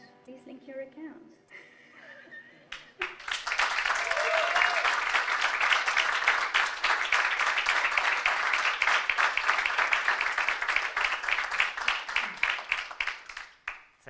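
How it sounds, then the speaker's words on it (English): A conference audience at a Vodafone presentation bursts into loud, sustained applause after the talk, a dense wash of clapping lasting about ten seconds before fading, preceded by a short stretch of someone speaking. "I think it was quite quite decisive, loud applause."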